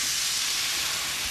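Steak with red onion sizzling in a hot pan, a continuous bright hiss of frying held at an even, fairly loud level with no talking over it.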